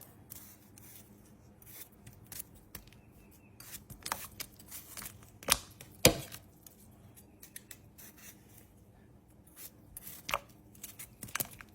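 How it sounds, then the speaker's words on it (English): A knife chops vegetables into chunks on a cutting board, irregular sharp taps and crisp cuts, close and fairly quiet, with a few louder strikes scattered among lighter slicing sounds. "And we're going to just cut those up and put those chunks."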